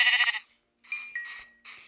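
Sheep in a video game bleat several times in quick succession, short nasal cries close and clear with brief gaps between them.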